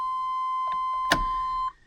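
The key-in-ignition chime module of a Chevy Silverado K1500 pickup rings a steady, clear electronic tone for about a second and a half, with a brief click partway through, then stops.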